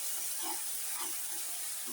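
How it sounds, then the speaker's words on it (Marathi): Fresh mint leaves sizzle in a hot pan while being fried for a green mint chutney, a steady close hiss with faint soft crackles throughout and no talking. "हे बघा, हे फ्राय होतंय."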